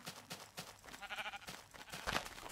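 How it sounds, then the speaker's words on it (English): Sheep in the video game Minecraft bleat a few times, quiet wavering calls spaced over soft ambient game sounds, with no talk. "No more killing innocent sheep."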